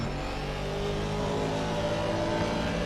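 A GT4 race car engine in Assetto Corsa Competizione at Brands Hatch drones loud and continuous under sustained throttle, a dense buzzing roar with no break.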